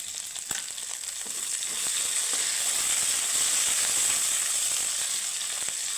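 Ginger, spices and curry leaves fry on a low flame, giving a steady close sizzle that swells slightly partway through, with faint occasional ticks of the pan.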